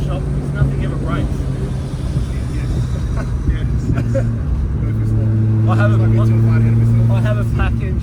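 A 500 hp 12A rotary engine fitted with PAC parts idles with a steady, droning hum that runs beneath people talking throughout.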